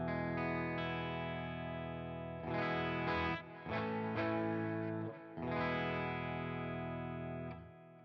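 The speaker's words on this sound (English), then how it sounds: "here's my clean tone for reference." Clean electric guitar tone through a Strymon Sunset drive pedal on an IR2 clean amp channel, sustained chords and single notes ringing with shimmery chorus-like modulation, played alone without talk.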